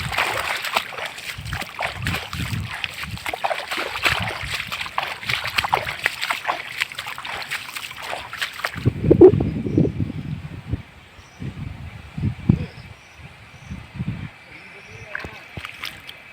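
Irrigation water splashes and sloshes into a tulsi field, with voices talking over the flow at first, then the splashing continuing more quietly in bursts.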